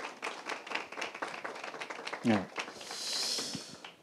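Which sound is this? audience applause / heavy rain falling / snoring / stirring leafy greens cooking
audience applause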